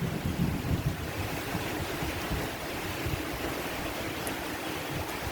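Heavy rain pours in a dense, continuous roar with low rumbling underneath, steady throughout and without voices.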